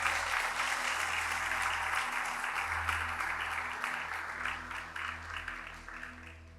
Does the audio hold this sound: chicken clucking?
no